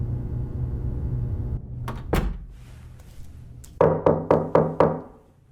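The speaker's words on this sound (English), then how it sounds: "Why is he knocking?" Knocking on a door: an earlier soft pair of raps, then four sharp, evenly spaced knocks near the end after a low droning hum fades out, with no voices.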